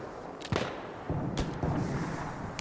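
Grenade blasts and gunfire in the video game Battlefield 1 come as several heavy, booming thuds spread over a few seconds against constant battlefield rumble. The last hit is the loudest.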